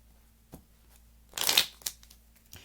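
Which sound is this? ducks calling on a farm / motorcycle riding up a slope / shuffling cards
shuffling cards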